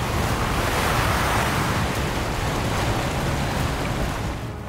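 Strong sea waves roll and crash continuously on open water in blustery wind as weather turns stormy, a loud, dense broadband roar that fades slightly at the end.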